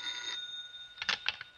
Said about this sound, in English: I received a phone call in my quarters at the rectory.